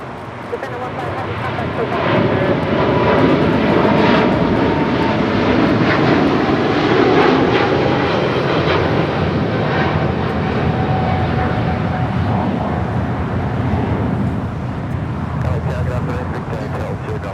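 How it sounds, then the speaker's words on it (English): A Japan Airlines Boeing 777-300ER departs Los Angeles International Airport, its jet engines a loud, steady roar that swells and holds for most of the stretch, with talk and radio chatter underneath. "This is Japan Airlines Flight 15 departing to Tokyo Haneda on the 777-300ER."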